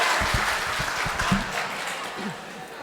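Crowd clapping at a poetry recital in a cultural hall, fairly dense but moderate in volume, with a voice speaking over the applause.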